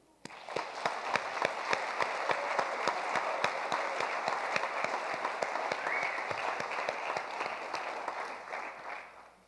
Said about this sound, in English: please give a round of applause for our student performers and their instructors